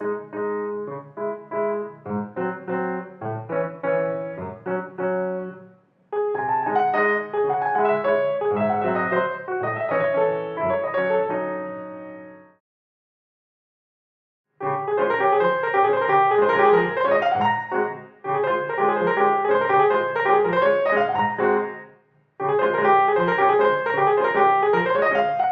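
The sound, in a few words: piano playing crotchet, crotchet, minim rhythm in 4/4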